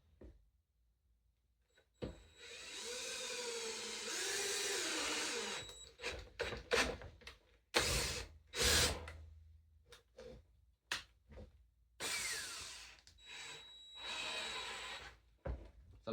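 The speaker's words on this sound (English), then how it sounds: "Let's pick about halfway down and drill a nice straight hole through." A power drill bores a half-inch hole straight through a metal air tank, the motor whining in sustained bursts broken by short stops and restarts, loud and close with no voices.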